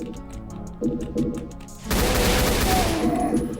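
Rapid bursts of gunfire from snipers in a Doom game blast in quick succession, loud and close, then give way to a dense roar of continuous shooting and explosions.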